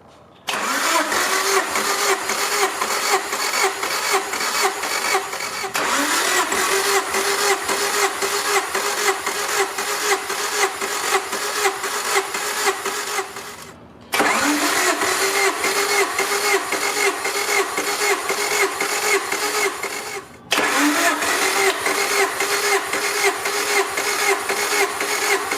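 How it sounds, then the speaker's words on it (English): A Honda Civic EF engine cranks on the starter motor during a compression test, in four long rhythmic bursts of steady churning separated by brief pauses, loud and close, with no talking. "I'll usually crank it like 10 to 12 times before I come out and check the compression"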